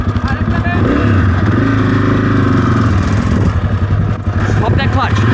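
A dirt bike engine roars loud and close, revving hard and steadily throughout while the clutch is popped during off-road riding training, with a rider's voice partly mixed in under the engine noise.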